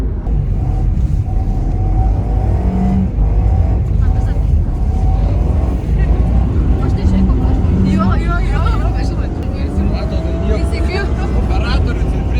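A steady, loud engine rumble fills the cabin during a drift taxi ride on a track, with people talking over the constant car noise.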